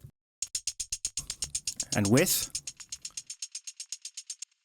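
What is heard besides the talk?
shaker loop sampled from vinyl, with and without processing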